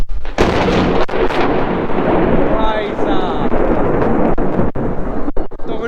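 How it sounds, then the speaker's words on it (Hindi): Strong thunder with a hard lightning crack, a loud, close, sustained rumble filling the whole span with several sharp snaps, while someone speaks briefly over it. "तगड़ी बिजली कड़की, पता है।"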